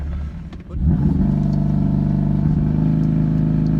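A tuned 505-horsepower BMW M3 engine with an aftermarket exhaust idles with a rough clatter, then revs hard and holds a loud, steady roar from the exhaust, close by.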